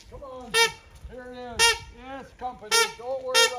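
Geese or a pet swan honk close by on a rural property, a series of loud, nasal calls repeating in uneven bursts with quieter murmuring honks between them.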